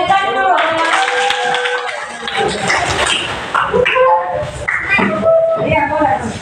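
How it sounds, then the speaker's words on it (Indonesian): Students clap together in a classroom during an Indonesian language lesson, a burst of hand claps with voices talking and calling out over it at close range. "Oke, baik, tepuk tangan dulu."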